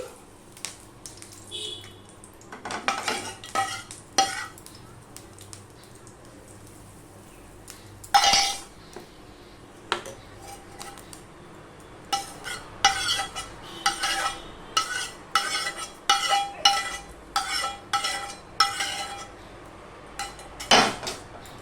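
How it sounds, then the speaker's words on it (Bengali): Vegetable filling being stirred into gram flour batter: repeated spoon scrapes and clinks against a bowl, sparse at first and then a quick, steady run of mixing strokes, close and without talk. "এবার যে তরকাটা আমি করেছি সেটাই ব্যাটারটার মধ্যে আমি দিয়ে দিচ্ছি"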